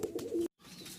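A Bashi Raj kokka, a male pigeon, gives one short, close coo lasting about half a second, followed by a brief silence and soft background noise.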